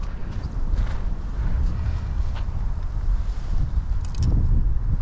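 Strong wind gusts over a bog lake where someone is fishing with a hand rod, a loud, steady roar buffeting the microphone with no one speaking.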